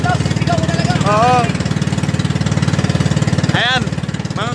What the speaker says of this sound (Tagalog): talaga pala kailangan mong sisigaw ka dito kasi malakas yung tunog ng makina